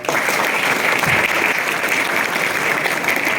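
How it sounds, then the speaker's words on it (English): Brief, dense applause from an audience at a road safety workshop, loud and steady across the whole moment, with no talking on top. "Clap for it."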